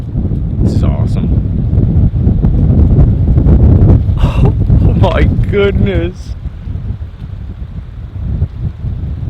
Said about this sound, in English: The wind just kicked up.